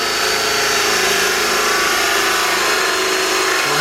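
A steady, loud mechanical whir runs throughout, like a power drill boring holes at close range to fit a carbon part on a Yamaha R1M motorcycle, with no talking.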